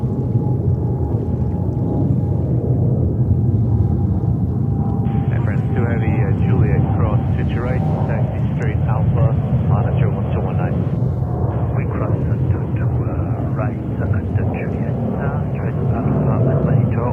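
A heavy Boeing 777 jet rolling out on the runway at JFK gives a deep, continuous roar throughout, with radio voices talking over it.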